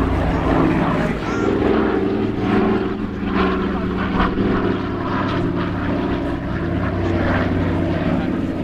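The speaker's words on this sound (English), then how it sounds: "there's a Lancaster bomber coming around" A Lancaster bomber flies past at the Biggin Hill Festival of Flight air show, its propeller engines giving a steady, loud droning roar throughout, with faint voices in the background.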